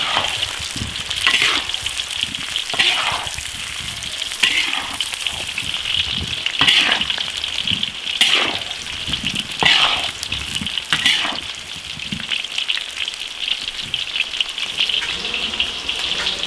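Fresh potatoes pan-frying in an iron wok until crusted, a loud continuous sizzle with regular bursts of crackling as the pieces are turned every second or so.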